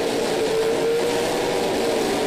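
NASCAR Pinty's Series stock cars race at Edmonton, a loud, steady engine roar holding a sustained drone throughout with no talk over it.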